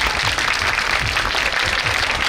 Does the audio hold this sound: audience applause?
yes